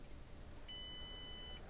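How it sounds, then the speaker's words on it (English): A Tektronix TDS5054B oscilloscope with a repaired motherboard gives a single steady electronic beep at power-on, clear and lasting just under a second over faint background hiss. "Yeah, it starts. It beeps."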